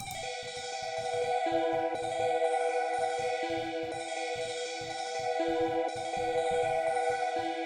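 Hip-hop beat melody with a halftime effect, sustained synth tones over bouncy, chopped low percussion hits in a steady loop, loud and close.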